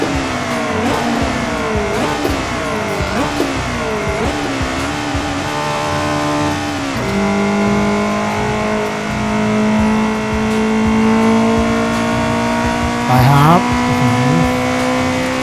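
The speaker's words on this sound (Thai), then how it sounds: "ไอ้อุโมงค์นี่เสียงยังลั่นอ่ะ เดี๋ยวต้องเบิ้ลอ่ะ" A Honda City GM6 with a turbocharged K24 engine in Assetto Corsa revs hard on an expressway and echoes through a tunnel, rising and falling in pitch as it shifts gears, reverberant and enclosed, with some talk underneath.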